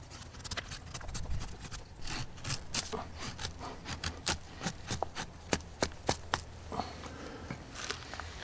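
A handmade carving knife blade cuts and shaves through wood in a series of sharp, close, repeated cracks and scrapes with an uneven rhythm, with no talking.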